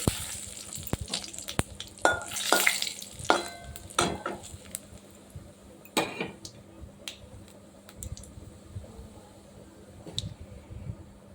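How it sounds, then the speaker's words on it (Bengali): Cumin, nigella seeds, fennel, bay leaves and dried chillies tempering in hot oil: soft sizzling and frying with scattered clinks and scrapes of stirring, coming in irregular bursts close to the pan. "জিরে কালো জিরে আর মৌরি এটা দিয়ে দিলাম ফোড়নে এবার দিয়ে দেবো দুটো তেজপাতা আর দুটো শুকনো লঙ্কা একটু নেড়ে চেড়ে নেবো"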